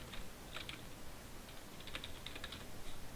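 Soft clicks of a computer keyboard come in small clusters of keystrokes over a steady noisy background, faint and close with no talking.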